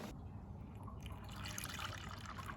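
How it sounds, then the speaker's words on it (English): Water pours steadily into the tank of a HAYGAIN HG-600 hay steamer, a continuous liquid splash and trickle that grows fuller and brighter partway through, close by with no talking. "The first thing, fill up with some water."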